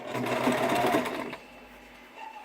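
A domestic sewing machine stitches fabric for ladies' all-in-one panties, a close, fast mechanical whir that runs for just over a second before stopping, leaving quiet room tone.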